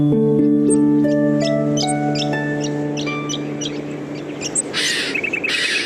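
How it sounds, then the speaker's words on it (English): Tiny young mistletoe birds calling from their nest in Australian bush, a series of high, thin chirps and tweets repeating steadily and fairly close, over a low steady hum. "Still in their nests are these tiny mistletoe birds."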